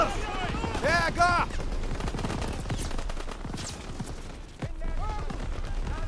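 Gunfire in the World War II shooter Call of Duty WWII: dense, loud bursts of shots and explosions, with voices shouting over the battle throughout.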